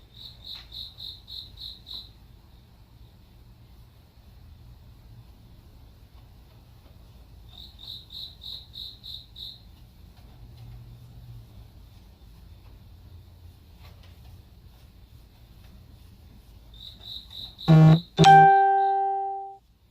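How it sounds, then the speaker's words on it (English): Cricket chirping in rapid pulsed trills that come in three separated bursts over a quiet background, faint but distinct, followed by a loud sharp knock and ringing clang at the end. "That damn cricket, shut up."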